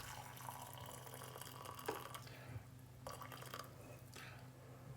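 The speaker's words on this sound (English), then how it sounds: "I'm just going to pour a little bit of this liquid into here." Potato cooking water is poured from a pan into a container during mash preparation, a soft, steady trickle and splash close by with a few brief drips, fairly quiet throughout.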